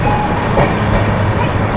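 Sampark Kranti Express from Sealdah to Delhi runs toward Durgapur in West Bengal, heard from inside a carriage as a steady, loud rumble of wheels and rails with a faint clatter.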